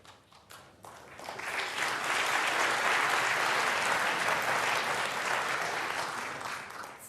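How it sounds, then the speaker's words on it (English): A snooker crowd gives muted applause that swells into a steady clatter of clapping and holds at moderate loudness before easing slightly toward the end. "It's a sort of muted applause, isn't it?"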